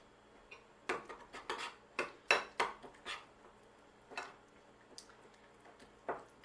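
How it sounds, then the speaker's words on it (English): Metal utensil clinks and scrapes against a bowl while chicken skewer marinade with lemon juice and parsley is mixed, a steady run of close, sharp clatters with short pauses, no talking. "We're going to mix that all together."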